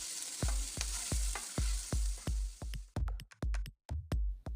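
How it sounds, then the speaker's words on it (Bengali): Diced potato pieces fry in hot oil in a pan for a Bengali drumstick-flower dish, giving close, steady sizzling broken by regular scraping bursts of stirring about every half second. "এখন এই তেলের মধ্যে আলুটা একটু ভেজে নিচ্ছি।"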